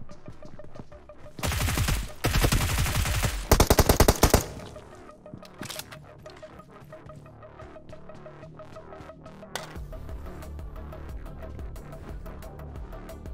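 Rapid automatic gunfire in a solo-versus-squad battle royale shooter game, loud bursts of fast shots in the first few seconds, then quieter scattered shots and a low ongoing hum with occasional single cracks.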